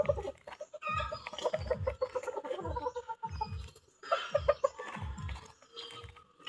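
Hens cluck and squawk in caged housing on an egg farm, a steady series of nearby rhythmic clucks and calls repeating through the whole stretch, with no talking over them.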